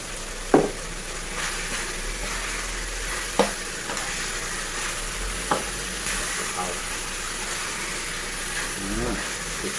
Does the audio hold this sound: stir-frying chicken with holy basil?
yes